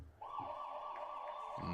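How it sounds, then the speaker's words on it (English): End-of-half siren at a Class AAA girls soccer state tournament semifinal in Beckley: a single steady, loud electronic tone held for about a second and a half, with faint crowd noise underneath. "And there goes the siren."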